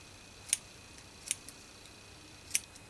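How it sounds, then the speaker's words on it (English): Three crisp, isolated snips of scissors, close and fairly quiet, spaced unevenly with near silence between them. "Scissors. I'm gonna cut that end."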